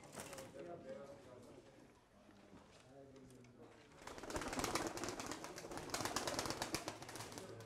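Pigeons cooing in a loft, soft repeated coos close by under ongoing conversation in Turkish, followed by a rise of busier fluttering and scratchy activity.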